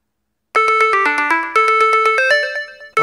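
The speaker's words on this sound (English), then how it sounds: "So I'm going to press the little button on the tracker to locate my phone." A phone alert is set off from a Trackr Bravo tracker button in the same room, a loud chiming melody of bright repeated notes that starts after a short silence.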